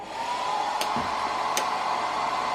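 A hair dryer powered through an EcoFlow charging station runs steadily with a constant whooshing hum, close and continuous, with a couple of faint clicks.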